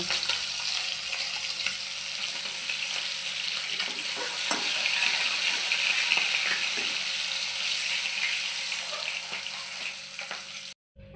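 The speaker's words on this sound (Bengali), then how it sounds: "তেল গরম করে রিঠা মাছ দিয়ে দেব" Rita fish frying in hot oil in a home kitchen, a steady close sizzle and crackle that runs unbroken to the very end.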